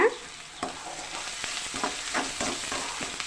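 Sliced onion and crushed garlic sauté in a pan for a wedding-style potato stir-fry, a soft continuous sizzle broken by repeated scraping strokes of a spatula, close and steady with no talking.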